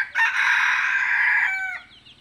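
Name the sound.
labuyo (junglefowl) rooster crowing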